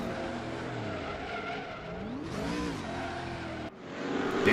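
A race car skids as its driver loses control at turn three of the Norisring circuit in a racing video game, tires squealing in rising and falling sweeps over the engine drone, loud and close with no talk.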